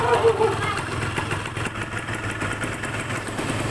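A Yamaha DT125 motorcycle engine runs steadily at idle during carburetor tuning, a close, constant low droning hum that holds at an even level throughout.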